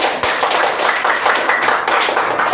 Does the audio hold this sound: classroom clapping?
yes